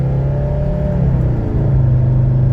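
A 1985 Mercedes 300D diesel engine drones loudly and steadily from inside the cabin, its pitch climbing gradually as the car accelerates from 0 to 60.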